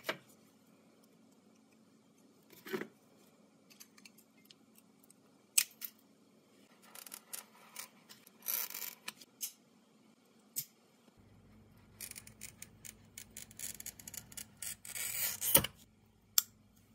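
Scattered snips, clicks and rustles while stained glass pattern pieces for an Art Deco scalloped suncatcher are cut out with scissors, quiet and close, arriving in irregular bursts with pauses between.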